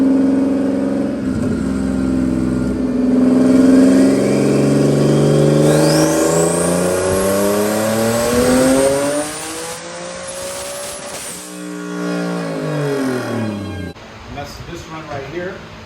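A tuned Nissan 370Z on a dyno winds its engine up in a long loud rising rev, then drops off sharply and revs again briefly, with a voice talking over it.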